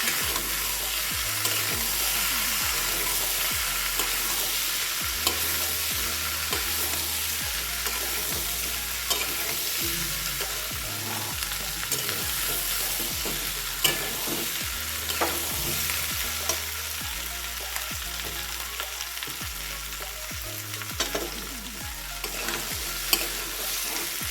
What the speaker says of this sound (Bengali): এবার আমি এর মধ্যে দিয়ে দেবো হচ্ছে মটরগুলো সব। দিয়ে এবার এটাকে আমি ভালো করে নাড়িয়ে চাড়িয়ে নিই।